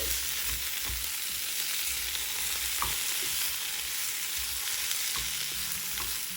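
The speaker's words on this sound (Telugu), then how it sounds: "ఈ మసాలా అంతా ఈ బంగాళదుంప ముక్కలకి పట్టేలా కలుపుకుని వేయించుకోవాలి." Boiled potato pieces coated in spices fry in a pan with a steady, close sizzle, and faint scraping and clinks from stirring occasionally break through the constant hiss.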